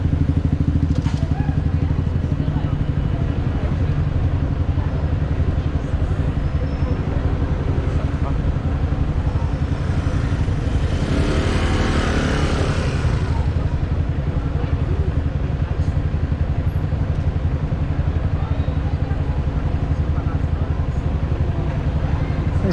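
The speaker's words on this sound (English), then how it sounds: "Traffic stream, traffic jam stream." Continuous road traffic stream in a traffic jam, with scooters among the vehicles, a steady loud engine rumble with a passing swell of noise midway.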